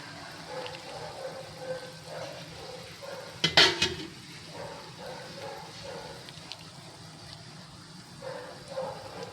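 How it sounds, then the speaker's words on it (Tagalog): A whole milkfish (bangus) goes into a pot of sinigang, a brief clatter and splash standing out near the middle over a steady low kitchen background, with no talking. "Ilagay na natin yung isda. Actually, isang isda lang to guys. Isang buong bangus."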